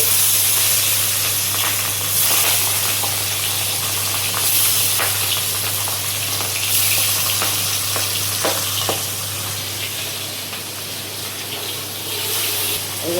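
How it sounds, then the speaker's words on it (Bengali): Pabda fish frying in hot oil produces a loud, continuous sizzle and crackle that stays close and steady for the whole stretch, with a low constant hum underneath and no talking. "এবার আমি পাবদা মাছটা ভেজে নিচ্ছি।"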